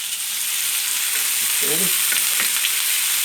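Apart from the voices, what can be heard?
chopped onions frying in olive oil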